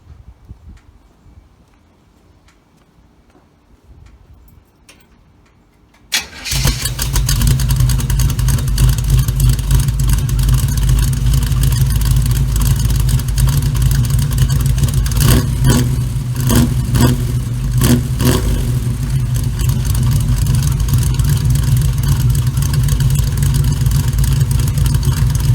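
A 1936 Chevy Coupe engine cranks and fires after several quiet seconds, then runs loud and steady close by, with a few revs partway through.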